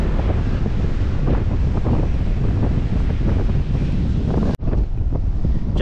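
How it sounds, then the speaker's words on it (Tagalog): Strong wind buffets the microphone at the Bangui windmills wind farm, a loud continuous roar with heavy gusting and a brief cut near the end. "Napakalakas talaga ng hangin."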